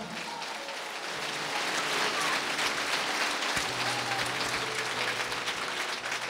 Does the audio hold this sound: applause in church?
yes